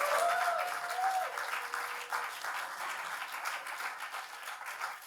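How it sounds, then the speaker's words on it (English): Audience applause at a symposium on interconnected arts and music performance, a dense steady wash of clapping from the start that eases slightly toward the end, with a brief tonal whistle-like sound near the beginning. "Please give her a round of applause."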